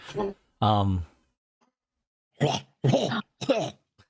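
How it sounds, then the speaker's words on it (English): A dog coughs and hacks in several short, harsh bursts separated by pauses after eating a pancake, close by and fairly loud. "he's probably coughing up syrup"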